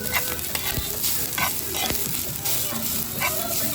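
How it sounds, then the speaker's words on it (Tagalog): Tilapia fries in a pan with a steady, close sizzle and crackle, broken by occasional scrapes and stirring clinks, continuous throughout. "Ito ang ating tilapia, piniprito na natin."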